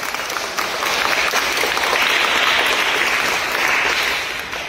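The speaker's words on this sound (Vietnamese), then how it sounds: "Rồi các bạn cho bạn một tràng vỗ tay thật lớn nào." Church congregation clapping for a young girl: a loud, dense round of applause from many hands, building quickly and holding steady before easing slightly at the end, no talking over it.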